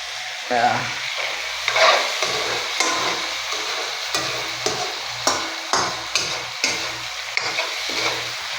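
Food stirred and fried hard in a pan over a gas stove, with a steady sizzle and repeated scraping strokes of a utensil at a close, moderate level, no talking.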